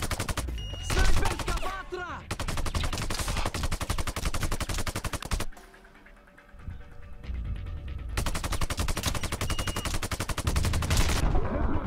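Rapid automatic gunfire from a sniper-themed shooter game, Sniper Ghost Warrior 2: dense, loud bursts of shots that stop briefly around the middle, then resume at full intensity.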